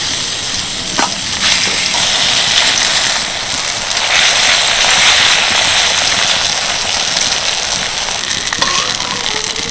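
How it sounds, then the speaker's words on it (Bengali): Cabbage pieces fry in white oil in a wok, giving a steady, loud, close sizzle and crackle that runs unbroken throughout, with a few brief stirring clinks and no talk. "এবার এগুলোকে ভাজার জন্য কড়াইতে দিয়ে দিচ্ছি কিছুটা সাদা তেল।"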